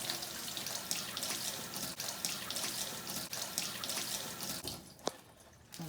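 Water runs from an apartment bathroom sink faucet in a steady, close rushing stream and then cuts off near the end, leaving a quiet room with a brief clunk.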